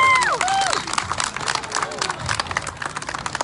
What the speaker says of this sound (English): please give a round of applause for David Levitt